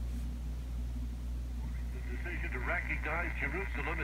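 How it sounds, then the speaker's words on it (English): Static hiss from a vintage Hallicrafters S40 radio receiver, a steady noisy rush with a low hum beneath and warbling, whistling tones rising in the second half. "You can hear the static."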